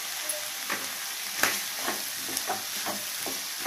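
Bitter gourd fries in a pan with tomato, giving a soft steady sizzle broken by faint periodic scraping strokes as it is stirred, fairly quiet and with no talking.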